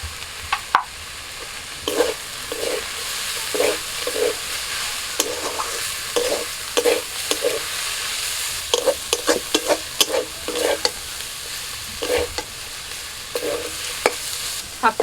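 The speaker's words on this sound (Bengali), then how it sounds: "শাকটা ভাজা হয়ে গেছে, নামিয়ে নিচ্ছি।" Red spinach with peanuts, crumbled lentil dumplings and poppy seeds is fried in a pan. A spatula scrapes and stirs in irregular strokes over a soft, continuous sizzle.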